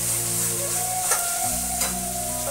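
Mutton curry sizzles steadily in a pan while being stirred and sautéed, with a couple of sharp scraping strokes and a low hum underneath.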